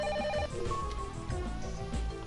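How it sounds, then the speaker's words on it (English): A telephone rings in the video game Silver Case, a loud repeated electronic ring filling the short stretch over a busy game soundtrack, with no talk. "the phone is ringing"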